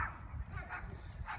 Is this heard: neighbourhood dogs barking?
yes